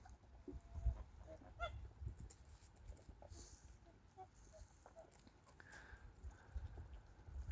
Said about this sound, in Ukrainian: іде гусак поважно собі